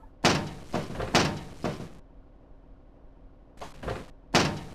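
A door opens in the video game Barrow Hill, heard as several heavy thunks and creaking knocks in two bursts separated by a short silence.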